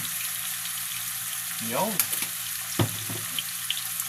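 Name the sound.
stirring food cooking in a pan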